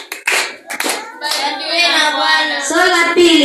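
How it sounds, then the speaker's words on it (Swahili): A group claps for parents at a church children's Bible quiz, a short burst of hands followed by sustained rhythmic clapping mixed with cheering voices. "Amina, tuwapigie wazazi makofi."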